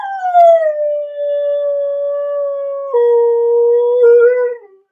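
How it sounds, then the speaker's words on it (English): A dog howls in long, sustained, wavering tones, close and fairly loud, with the pitch dropping and then rising again in a second drawn-out howl before it fades. "Come on, howling!"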